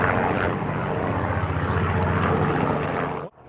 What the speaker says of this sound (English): this helicopter just took off from the airstrip over there